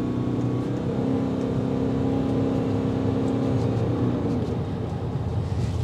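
A 2023 Ford Maverick Hybrid Lariat with a CVT transmission accelerating on a test drive, a loud, steady engine drone with a sustained tone that holds and then eases off, heard from inside the cabin.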